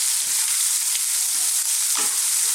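Red onions frying in a pan, a dense, loud, continuous hiss of sizzling oil close up, with a few soft scrapes of stirring underneath and no voices.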